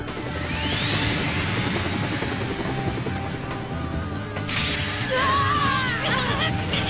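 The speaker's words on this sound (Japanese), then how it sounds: "あのヘリだ。" An animated helicopter arrives to land, a rising whine and mechanical whir that swells, then clattering rotor chop and metallic sweeps, moderately loud under a music-like bed.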